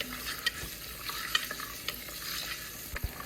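Mixed vegetables frying in a Dutch oven, stirred with a wooden spatula: a low, quiet sizzle broken by scattered soft knocks and scrapes of the spatula against the pot.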